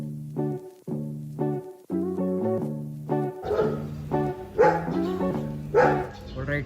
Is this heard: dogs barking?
yes